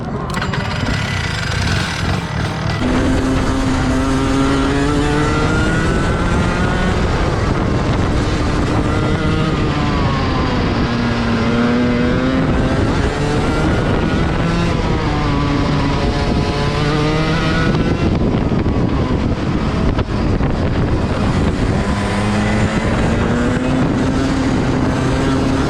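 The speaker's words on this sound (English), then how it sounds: "After doing all this go-kart racing" Rental go-kart engines race around a track, their loud, close whine rising and falling with each rev and steady throughout.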